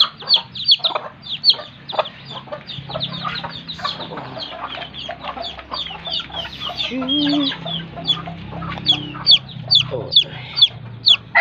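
Hens cluck and chatter close by in a busy coop, with a brief low spoken word near the start.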